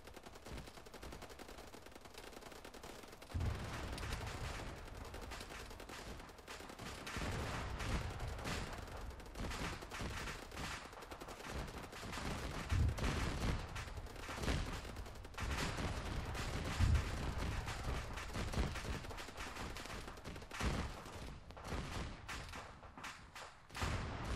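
Sustained gunfire from an ARMA 3 battle against a Reaper invasion, with dense bursts and heavy thumping shots rolling on for the whole stretch and no talk over it.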